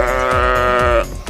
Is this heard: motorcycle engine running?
no